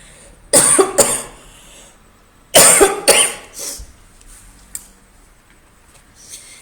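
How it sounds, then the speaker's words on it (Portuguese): A coughing fit from a person during a talk on pre-adolescent sexuality, two loud clustered bursts of harsh coughs a couple of seconds apart, followed by a faint click, close to the microphone. "me deu um ataque de tosse aqui."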